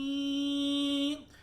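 A voice imitates a swarm of mosquitoes and blackflies with a single steady, loud buzzing hum held for about a second before it cuts off abruptly.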